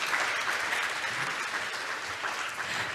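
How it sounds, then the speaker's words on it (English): A large audience gives a dense, steady round of applause at the closing session of the 15th Seoul ODA International Conference; many hands clap at an even, sustained loudness for about three seconds, with no talk. "please give them a final round of big applause"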